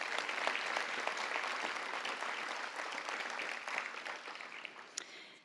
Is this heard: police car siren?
no